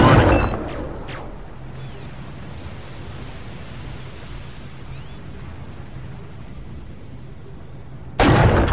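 Heavy booming blasts from a cannon emplacement in the Unreal 2 video game open and close the stretch, loud and broadband, with a lower rumbling wash and faint metallic sweeps between them.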